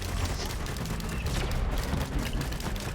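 Constant dense gunfire pours from a weapon fired at an enemy in Risk of Rain 2, a steady rapid crackle mixed with game effects running unbroken and evenly loud throughout.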